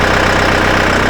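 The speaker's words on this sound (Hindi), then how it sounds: "ट्रैक्टर को स्टार्ट करते ही" Solis Yanmar tractor engine running with a loud, steady diesel idle, a dense continuous rumble with even low throbbing pulses close by.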